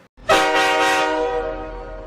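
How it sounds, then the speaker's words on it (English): A Nathan K5L train horn sounds a single loud, sustained chord that starts abruptly after a brief silence and holds steady, close and clear, with no other sounds. "Yeah, that's a K5L."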